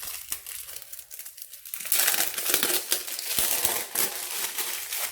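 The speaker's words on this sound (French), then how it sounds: "excusez-moi pour le bruit des plastiques." Plastic film wrapping around an AliExpress canvas is crinkled and pulled open up close, a dense crackling that starts lighter and grows louder and busier, with no speech.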